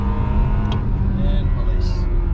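A Honda Accord Euro with a K24A engine and aftermarket downpipe pulls onto a freeway, its loud steady engine roar filling the cabin under a voice, with brief higher-pitched whine bursts.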